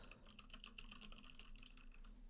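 Computer keyboard typing, soft rapid clicking keystrokes close by in a quiet room, continuous for a couple of seconds.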